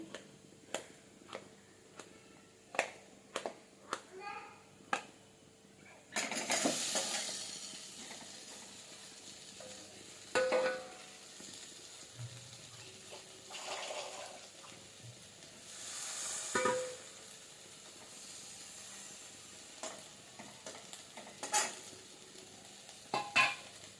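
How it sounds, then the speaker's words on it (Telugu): Cut potatoes tipped into a hot pan for masala dosa filling, bursting into a sharp sizzle, then stirred with clinks and scrapes of a spoon against the pan, with quiet ticks and pauses between rounds of stirring. "కట్ చేసుకున్న ఆలుగడ్డను వేసేస్తున్నాను అండి"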